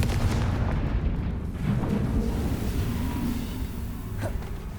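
The Confringo explosive spell in the Hogwarts Legacy video game lets off a deep, rumbling blast that fills the whole stretch, loud and sustained with a heavy low roar and crackling debris, with no talk over it.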